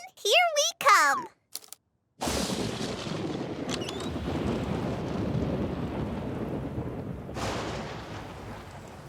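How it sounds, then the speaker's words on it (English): Cartoon thunderstorm: a sudden loud thunderclap breaks in after brief bright chiming tones, then a long rumbling roll with hissing rain that swells again near the end, no speech over it. "We can't go swimming when there's lightning outside."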